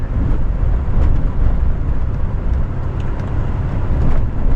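An off-road vehicle drives a desert trail through South Carrizo Creek toward Canyon Sin Nombre in late-afternoon sun. It makes a steady, loud engine and tire rumble with gravelly road noise throughout and no talk.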